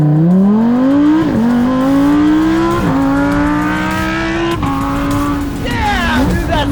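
A Lamborghini races a Tesla, its engine howling as it climbs loudly through several gears with sharp upshift dips between pulls. Voices talk over the run.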